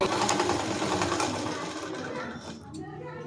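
Sewing machine stitching the front panel of a blouse in a tailoring class, a steady dense whirr that runs loud and continuous, then eases off and thins out toward the end.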